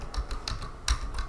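Computer keyboard keys tapped in a quick, uneven string of light clicks, close by, with no voices.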